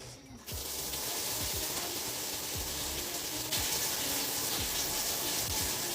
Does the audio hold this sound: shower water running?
yes